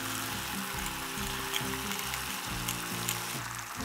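Sausages and halved slices of melting cheese sizzle together in a pan at a campsite cookout, a steady close crackling fry with a low rumbling undertone running throughout, no voices.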